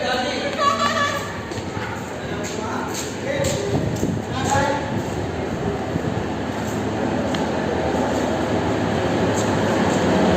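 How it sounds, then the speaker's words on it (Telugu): A train pulls out of Makthal railway junction on its run from Raichur to Hyderabad Kacheguda. A low rolling rumble builds steadily beneath someone talking nearby. "హైదరాబాద్కు రాయచూర్ నుండి హైదరాబాద్ కాచిగూడ వెళ్ళవలసిన ట్రైన్ బయలుదేరినది"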